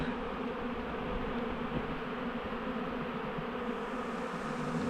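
Dense, unbroken buzzing of a bee swarm scrambling into a nucleus hive entrance, a steady close hum of countless wings with nobody talking.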